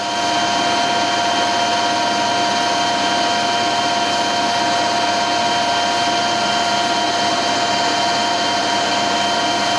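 A carbide tool taking a decent cut while regrinding a surface plate, giving a loud, continuous machining whine with steady tonal lines and no break or talk.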